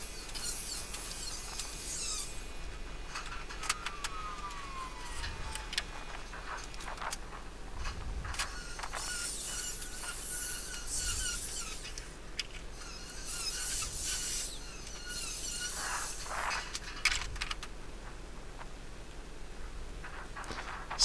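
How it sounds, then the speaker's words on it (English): A ragged burr being filed off the edge of an aluminum sheet on a boat project, repeated rasping strokes with scraping and rubbing, close and moderately loud, no speech. "just getting that ragged burr off so it's safe to handle that sheet of aluminum."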